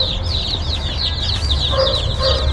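Farm chicks chirp rapidly and continuously up close, a dense chorus of high peeps over a low background rumble.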